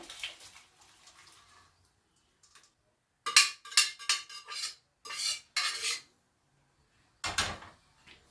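Raw peanuts tipped with their soaking water into a cooking pan, making a run of clattering, splashing bursts close up, followed by one more loud clatter after a short pause.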